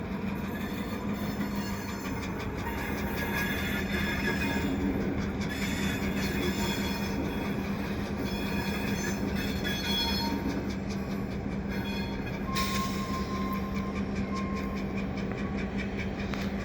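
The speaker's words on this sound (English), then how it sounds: "And they're taking that caboose somewhere." Vintage CN switcher locomotives haul an old Pointe St. Charles caboose through a winter rail yard, with continuous rumbling wheels, clicking rail joints and occasional squeals at moderate distance.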